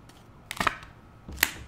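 Tarot cards being shuffled and pulled from a deck, heard as a few short crisp flicks and snaps in separate bursts, close and fairly quiet, with no talking.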